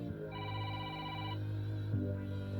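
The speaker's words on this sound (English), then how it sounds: "now my phone's ringing." A mobile phone rings indoors in a kitchen during cooking, giving a short electronic tone burst followed by the start of another. The ring is fairly quiet against a steady hum.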